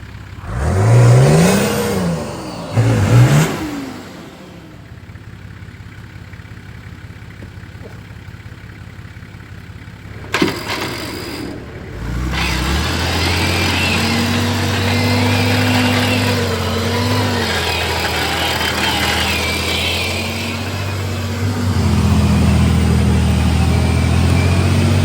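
A car engine runs steadily during winch recovery from a boghole, first with a couple of loud revs and then a sustained close drone with a rising whine from the winch underneath, with no talking.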